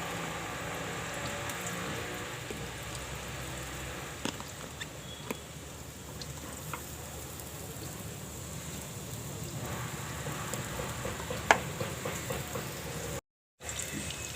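Cabbage vadi frying in a pan, a steady soft sizzle and patter of oil running evenly with a few faint clicks, with no voice over it.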